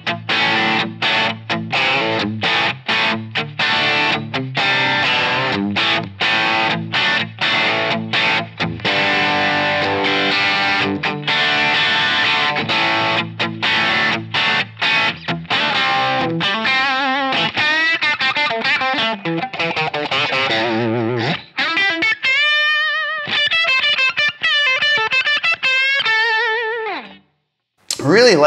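Electric guitar through a Line 6 Helix WhoWatt 100 amp model modeled on a Hiwatt DR-103 Brill, with drive and master boosted, playing loud, continuous crunchy chords and riffs, ending in sustained bending notes with heavy vibrato before cutting off.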